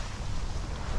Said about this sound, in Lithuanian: Tiesą pasakius, bangos didesnės nei tikėjaus.